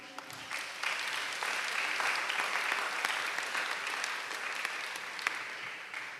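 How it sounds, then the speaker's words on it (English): Sustained audience applause fills a school graduation ceremony, a dense, steady clatter of many hands clapping at an even level for several seconds with no pause. "Round of applause,"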